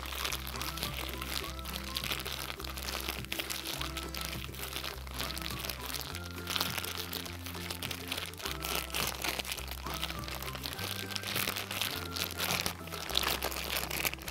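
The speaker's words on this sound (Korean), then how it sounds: "지퍼백을 닫고 펼쳐주세요. 그리고 지금부터 열심히 손으로 반죽을 해주세요." Herb soap dough being kneaded by hand inside a sealed zipper bag, making continuous crinkling and crunching plastic sounds at close range, with a steady backing music track underneath.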